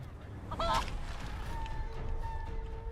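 A polymorphed chicken in Divinity: Original Sin 2 gives a couple of short, honking clucks close up, followed by a quieter thin call over a low game background.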